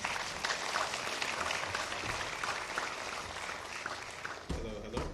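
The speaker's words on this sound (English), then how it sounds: "Give them a warm round of applause." Seminar audience applauding the panelists in a New York hall, a dense, steady wash of clapping throughout that dips briefly near the end.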